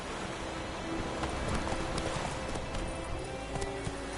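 Roach the horse gallops in The Witcher 3: Wild Hunt, with fast, dense hoofbeats pounding continuously and close up.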